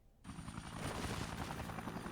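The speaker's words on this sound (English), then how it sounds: "there's the sound of the attack helicopter." An attack helicopter in the zombie game Dead Rising rumbles in with a sudden onset, its rotor thudding in a rapid steady pulse under a high whine, holding loud and constant.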